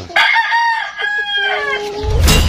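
A three-month-old Boston Roundhead rooster gives one close, loud crow with a rising then drawn-out wavering call, ending in a burst of rustling noise.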